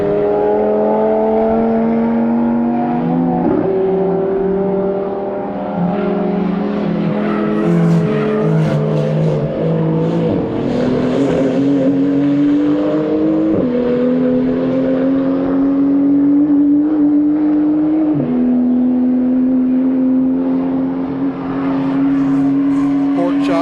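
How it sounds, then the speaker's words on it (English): An Audi TT RS race car laps a circuit in the morning at NOLA, its engine droning loudly and steadily nearby, with pitch rising through the gears in repeated climbs and drops across the whole stretch. "Got the TTRS coming through, finishing up his first of 3 laps."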